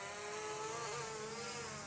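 A FIMI X8 SE 2022 drone landing on a landing pad: a steady, high-pitched motor whir, like small propellers spinning, holds at a constant level throughout with a slight pitch wobble near the middle.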